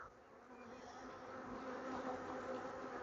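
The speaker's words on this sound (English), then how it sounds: "So these are called Buckfast breeds, bees." Buckfast honey bees buzz steadily and densely around hive frames being lifted out, a close, continuous drone that swells slightly over a few seconds.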